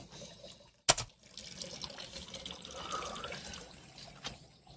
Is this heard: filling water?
yes